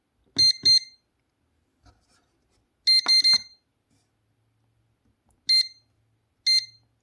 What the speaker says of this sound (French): il bip pour vous signaler qu'il faut corriger manuellement